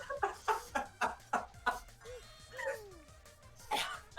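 A cartoonish chicken in the video game Danganronpa 2 gives a quick series of sharp clucks in a steady rhythm, then a brief pause with a rising squawk before more clucks, fairly quiet overall.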